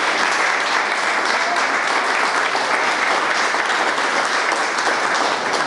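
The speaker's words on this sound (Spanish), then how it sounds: "Vamos a brindarle un aplauso a él." Steady, dense applause from a crowd gathered for a news event in Mexico, loud and continuous throughout with no pauses, a faint voice briefly audible beneath the clapping.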